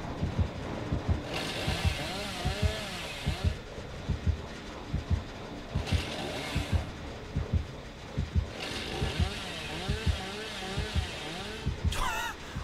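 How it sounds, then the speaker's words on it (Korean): A chainsaw in the horror game Dead by Daylight runs and revs in repeated surging, sweeping engine pulses with rhythmic thuds, fairly loud and continuous under the game's ambient noise. "아니 쟤는 야 전기톱을 왜 키고 다니냐"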